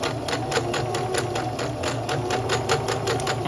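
Kenmore 385 Series sewing machine running an overcast stitch along the edge of two layers of fabric, a fast steady mechanical chatter close up and continuous throughout.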